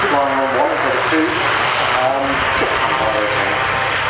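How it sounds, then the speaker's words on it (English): Propeller engines of a King Air aircraft at an air display drone loudly and steadily with a wavering pitch, while a commentator talks over the engine noise throughout. "Turn an engine down and practice flying on one for the two."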